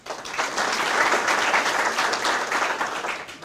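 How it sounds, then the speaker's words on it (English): Audience at a construction celebration event applauds steadily and loudly throughout, a dense wash of clapping with no talking over it. "Please clap."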